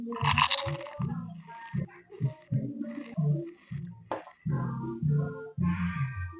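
A baby chewing food in a quiet kitchen during a Thanksgiving family gathering: close, crunchy, irregular bites and chomps repeating in short bursts with brief pauses between them.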